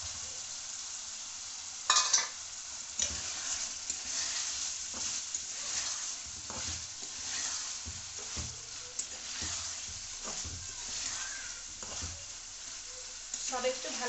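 Fried potatoes being stirred into spiced masala in a pan for vegetarian aloo biryani: a steady sizzle with repeated scraping spoon strokes, close and continuous, with no talking.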